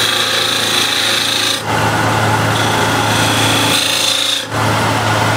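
A wood lathe spins as a spindle gouge scrapes the turning wood, giving a loud, steady, rough whir that barely lets up except for two brief dips.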